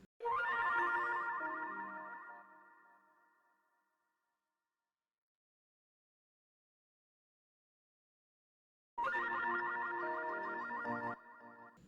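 A chopped-up music sample in a beat plays in two bursts: a bright, echoing chord fades out over a few seconds, then after a stretch of silence a second chop comes back in at full level.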